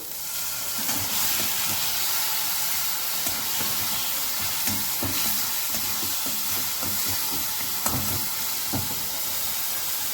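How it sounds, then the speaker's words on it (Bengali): Spices sautéing with spinach and potato in a pan give a dense, continuous sizzle and hiss, broken by scattered scraping knocks from stirring, close and fairly loud with no talking. "মশলাটা কষি নেবো ভালো করে"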